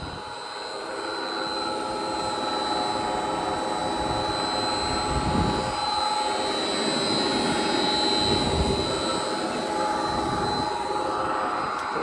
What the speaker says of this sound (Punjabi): ਤੇ 25 ਹਾਰਸ ਪਾਵਰ ਦੀ ਮੋਟਰ ਹੈਗੀ ਹੈ ਕਿਸਾਨ ਵੀਰ ਭਰਾਓ।